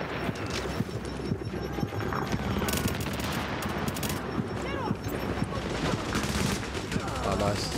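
Busy gunfire from The Division, with dense overlapping shots and bursts at mid distance mixed with clattering game effects, while players talk over it.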